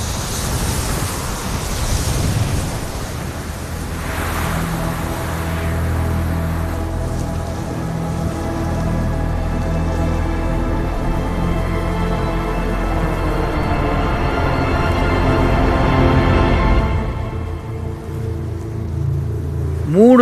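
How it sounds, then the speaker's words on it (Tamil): Arctic blizzard wind blowing steadily for days in deep cold, a continuous loud roar with broad gusty noise that swells slightly toward the end, no voices. "மூணு நாட்கள் ஆகியும் கூட பனிப்புயல் வீசிக்கிட்டு இருக்கு."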